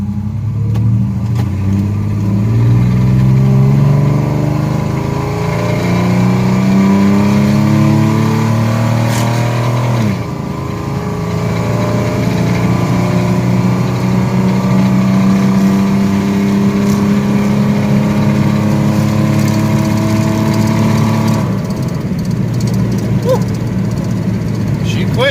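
A 1982 Chevy S10 pickup with a 2.8 V6 accelerates hard from up close, the engine climbing in pitch through several gear changes in repeated revving sweeps, loud and continuous for the whole stretch.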